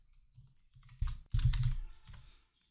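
Typing on a computer keyboard while entering a task into an Excel spreadsheet: a quiet patter of keystrokes with two louder bursts of rapid clicking near the middle, heard alone in a quiet room.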